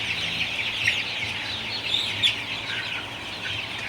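Sonali super hybrid chickens, about 35 days old, in a crowded poultry shed make a continuous chorus of clucks and chirps, with a few sharper calls standing out over a steady low hum.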